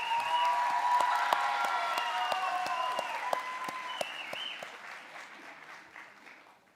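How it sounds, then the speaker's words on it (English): Audience applause fills a hall at a nursing pinning ceremony during a graduation. The clapping is steady, with sharp, distinct claps standing out, and tapers off gradually near the end under a faint voice and a few shouts. "Let's give this group a round of applause while they get the nursing pins."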